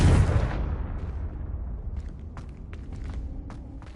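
A Confringo blasting spell in Hogwarts Legacy bursts with a loud, booming explosion at the start, its roar decaying over a couple of seconds into a low rumble scattered with small crackles and debris ticks.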